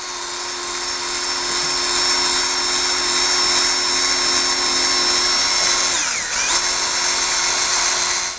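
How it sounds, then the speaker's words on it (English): A power drill boring a new screw hole for a front grille on a 2020 Can-Am Spyder RT runs as a steady, loud, high whine, briefly dipping and catching near the end before spinning back up. "So we're going to drill a new hole right there."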